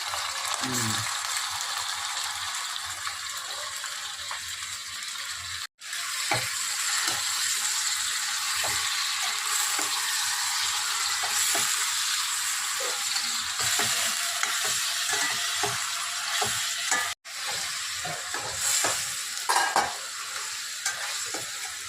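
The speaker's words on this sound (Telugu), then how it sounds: "చికెన్ ముక్కలు వేసేస్తున్నాను కా ఉల్లిపాయలు వేగినాయి కదా చికెన్ ముక్కలు వేసుకోవాలి" Chicken pieces fry with onions in a pan for a Sunday chicken curry, a loud, steady, close sizzle broken by scraping and clattering stirring, with no talking.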